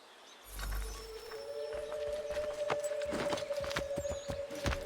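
Horse hooves in the video game Assassin's Creed 3, irregular clip-clop hits under a steady tonal hum and rustling game ambience, fairly quiet and continuous across the moment.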